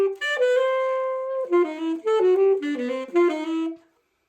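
A jazz line over a dominant 7th chord, played on what sounds like a keyboard, mixes scalar and chromatic approach notes into an enclosure, with a held chord tone followed by quick stepping phrases of clear, close notes that end in a decay.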